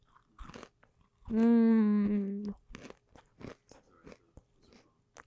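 Almond roca candy is crunched between the teeth close to the microphone in a series of sharp, crackly bites, interrupted early by a sustained hummed vocal sound.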